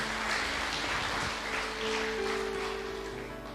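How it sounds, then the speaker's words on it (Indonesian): Congregation applause at a church service, a broad crackling wash of clapping that fills the space evenly, with a sustained organ or keyboard tone entering partway through and lingering beneath it. "Kasih tepuk tangan yang paling meriah."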